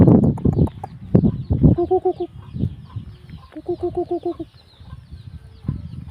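Chickens cluck in a rural setting, with repeated short, close clucking bursts and a few sharper calls over quiet outdoor background; no talking.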